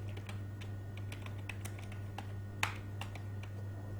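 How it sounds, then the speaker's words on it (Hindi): Computer keyboard typing while entering data into a Google Sheets invoice template: steady, close-up key clicks in an irregular run over a constant low electrical hum, with one sharper keystroke standing out and no talking. "सबसे पहले टाइप करते हैं सीरियल नंबर। नेक्स्ट टाइप करेंगे प्रोडक्ट नेम।"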